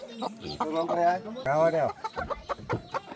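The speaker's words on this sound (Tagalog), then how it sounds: "Daming manok mga kapobre." Chickens cluck and squawk nearby on a farm in a busy, uneven run of calls, with a person talking over them.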